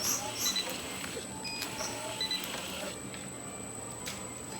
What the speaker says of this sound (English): as quickly as we can stably convey any given product, the printer will keep pace